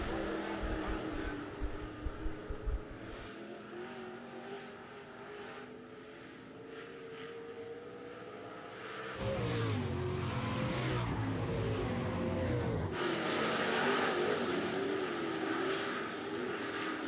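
Late model street stock race cars circle the track at Rapid Speedway, engines droning steadily at a distance with a louder, rougher surge of passing cars partway through.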